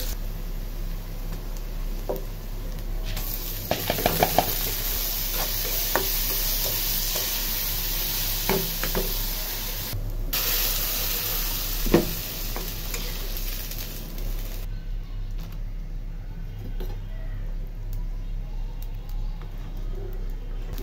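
Onion and garlic hit hot oil as a tempering for mung dal, a loud steady sizzle broken by scraping stirs and clicks. The frying then drops to a quieter hiss near the end.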